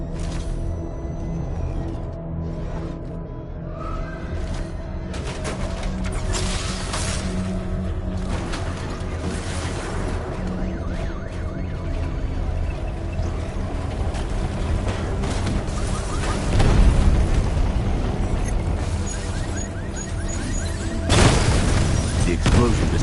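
An explosion in the Batman Arkham Knight video game, heavy rumbling booms and bursts over a continuous roar of game noise, with a louder deep blast near the end and voices talking through it.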